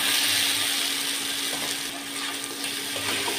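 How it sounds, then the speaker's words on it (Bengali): Cooked rice tipped into a hot pan for fried rice, giving a bright continuous sizzle and hiss up close that eases slightly midway and then holds steady. "এখন আমি আমার ভাতগুলা দিয়ে দিচ্ছি।"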